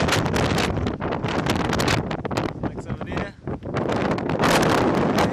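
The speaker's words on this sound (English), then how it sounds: "It is so windy, oh my god." Strong wind on a New Zealand wharf roars and buffets the microphone almost without pause, briefly easing once, while a person says a few words underneath.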